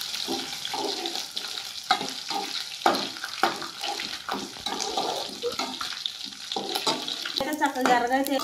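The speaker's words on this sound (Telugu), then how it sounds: "నూనె అయితే కాగిపోయింది. ముందుగానే రొయ్యలు అయితే వేసుకుంటున్నాను." Dried shrimp dropped into hot oil in a home kitchen, a close crackling sizzle with stirring scrapes and clatter, building to louder bursts of frying toward the end.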